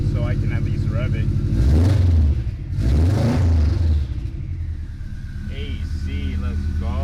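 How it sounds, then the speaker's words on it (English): A bugeye Subaru Impreza WRX STI engine revs twice in quick succession, each rise swelling to a loud rumble before dropping back to a steady idle, with a whining tone near the end. "Jay actually mounted the gas pedal with 1 volt, so I can at least rev it."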